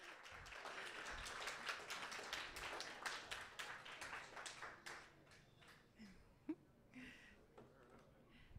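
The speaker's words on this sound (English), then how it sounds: "Let's give a quick round of applause for Ed as well." A crowd at a science pub talk applauds with dense, steady clapping that thins out and fades over several seconds, ending in a few scattered claps.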